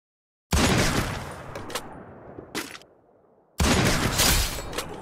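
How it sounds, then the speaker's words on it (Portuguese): Gunfire from the battle-royale video game Free Fire: a loud burst of rapid shots, a couple of short sharp cracks, a brief lull, then another sustained volley, all close and without talk. "Deixa eu ver se eu consigo dar um tiro nela."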